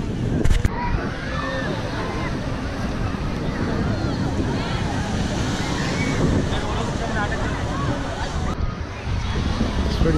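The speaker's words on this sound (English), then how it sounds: "Pretty windy today at Coney Beach." Wind and ocean waves at Coney Island beach in New York make a steady, broad hiss and wash of surf that carries on evenly and moderately loud for the whole stretch.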